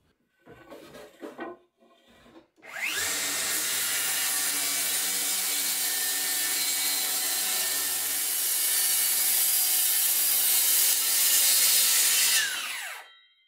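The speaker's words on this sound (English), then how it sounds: "And to do that, I'm using my straight edge guide with a handheld circular saw." A handheld circular saw on a straight-edge guide rips through a 3/4 inch plywood sheet, a loud sustained whine lasting about ten seconds after brief handling noises, then spinning down at the end.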